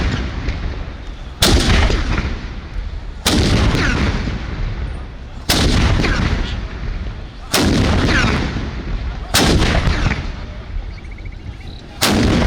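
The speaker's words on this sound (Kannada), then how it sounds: "ಇಂದು ಪೊಲೀಸ್ ಮತ್ತು ಅರಣ್ಯ ಇಲಾಖೆ ಜಂಟಿಯಾಗಿ ಸಿಡಿಮದ್ದು ಸಿಡಿಸುವ ತಾಲೀಮನ್ನು ಕೂಡ ಮಾಡಲಾಗಿದೆ" Firecrackers go off in a joint police and forest department rehearsal for training elephants in Mysuru. Six loud, booming blasts ring out about two seconds apart, each echoing into a rumbling roar before the next one.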